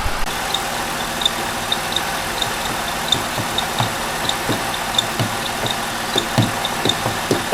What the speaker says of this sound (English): And that's the belt noise